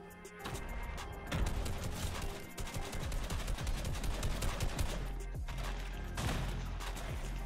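Fortnite match with rapid gunfire and grenade blasts, a dense, continuous barrage of overlapping shots and explosions throughout, fairly quiet overall with no talking.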